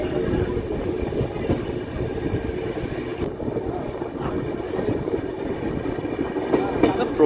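Kanchan Kanya Express running through the Dooars of North Bengal, a steady close rumble of carriages with faint clickety-clack over the rails, continuous throughout with a brief voice in the background.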